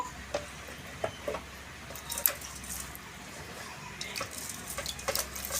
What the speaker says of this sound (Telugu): ఇప్పుడు ఈ ఉప్పు నీళ్ళలో ఇవి ముల్లంగి గడ్డలు వేసుకుందాము.